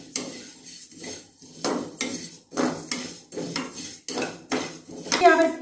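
Coriander seeds dry-roasting in a hot kadhai are stirred with a metal spoon, giving rhythmic, close scraping and clinking strokes against the pan about once a second, with a faint rattle of seeds. No one speaks.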